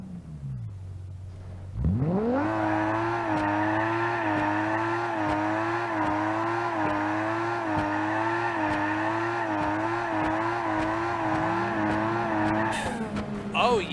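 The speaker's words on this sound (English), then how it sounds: "I wonder if we can do burnouts now." Modified turbocharged six-cylinder car in BeamNG.Drive doing a sustained burnout, the engine roaring at high revs with wavering pitch and tires squealing for over ten seconds before it cuts off.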